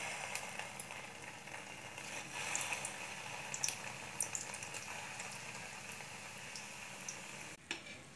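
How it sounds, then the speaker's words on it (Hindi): Langcha, Bengali sweet dumplings, frying in hot oil over a low flame, giving a steady soft sizzle and bubbling with small crackling pops throughout, fairly quiet and close, with no one speaking. "ऑयल गर्म हो गया अब फ्राइंग के लिए रख देती हूँ"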